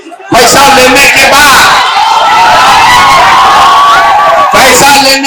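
Crowd at a political rally in Muzaffarpur, loud sustained clapping and cheering with whoops, cutting off abruptly near the end, with a voice shouting over it.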